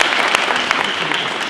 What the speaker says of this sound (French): On l'applaudit bien fort les gars